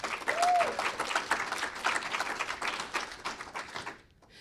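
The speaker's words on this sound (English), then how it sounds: "big round of applause to our wonderful executive team" An audience at a fall final presentation claps for the agency's executive team, a lively round of many hands with distinct individual claps standing out, a brief whistle early on, the applause fading quickly into quiet at the close.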